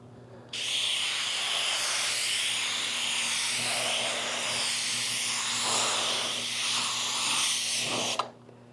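Bedliner primer sprayed for a satin finish gives a steady, close hiss that runs unbroken for about eight seconds and then cuts off abruptly. A low mechanical hum stays underneath throughout.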